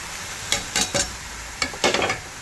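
Misal spices such as red chilli powder and coriander powder stir-fried in hot oil, with several short bursts of scraping and sizzling spread across a brief moment, close up, no talking.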